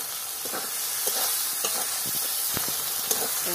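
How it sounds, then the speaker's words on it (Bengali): A spice mixture sautés in a pan before jackfruit goes in, a constant bright sizzle close by, cut through at regular intervals by the scrape and tap of a stirring spoon. "দু 3 মিনিট বসে আমি কষাবো মশলাটাকে"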